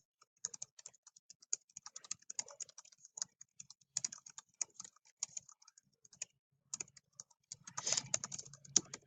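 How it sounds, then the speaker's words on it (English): Quick, uneven tapping of fingers on a computer keyboard, close and fairly quiet, with short pauses between bursts and a denser flurry of keystrokes near the end. "I'm going to type in what my question is for everybody who's read Proverbs 19 today"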